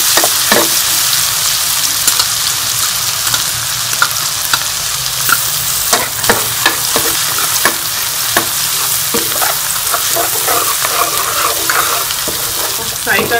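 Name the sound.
garlic paste frying in ghee in a karahi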